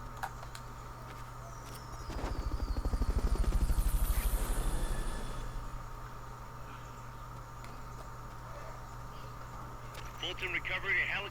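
Fulton recovery helicopter in Metal Gear Solid: rotor thumping swells from quiet to a loud, fluttering pass over a few seconds, then fades back under steady game ambience.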